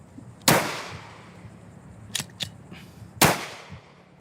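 A homemade 3D-printed Glock pistol fires a few sharp, loud shots several seconds apart outdoors, with softer mechanical clicks and clacks between them.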